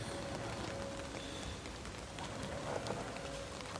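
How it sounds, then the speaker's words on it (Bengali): Rain falls on a rooftop garden as a soft, continuous patter, faint and even throughout, with no voices. "বৃষ্টি পড়ছে।"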